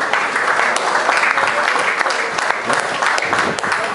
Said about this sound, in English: I'd like you to give a big round of applause